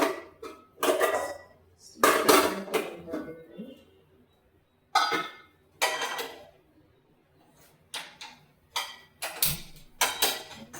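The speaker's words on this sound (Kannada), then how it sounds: "ನೆಕ್ಸ್ಟ್ ಈಗ ಒಂದು ಪಾತ್ರೆ ತಗೊಂಡು ಒಗ್ಗರಣೆಗೆ ರೆಡಿ ಮಾಡ್ತೀವಿ" A metal cooking pot handled on a kitchen counter while setting up to temper spices, giving several loud clanks and clatters in separate bursts with short quiet gaps between them.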